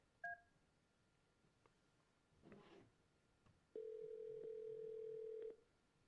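Desk telephone keypad dialing: a short keypress tone, then a faint pause, followed by a single long steady tone lasting nearly two seconds, quiet and clear against room noise.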